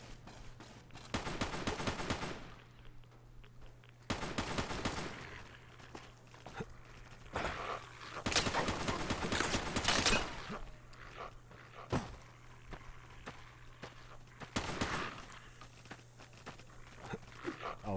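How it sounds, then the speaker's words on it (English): Gunfire in Fallout New Vegas comes as several loud bursts and single shots, spaced unevenly across the stretch, with quieter pauses and faint footsteps between them. "who is shooting me?"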